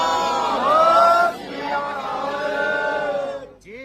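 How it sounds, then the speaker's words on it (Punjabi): A crowd of Sikhs shouts the jaikara slogan in unison at a gathering over the historic Hansli site in Amritsar, with long, loud, sustained chanted voices in two surges that die away at the end. "ਜੈਕਾਰਾ ਛੱਡ ਕੇ ਦਿਓ ਅੱਗੇ ਬੋਲੇ ਸੋਨਿਹਾ"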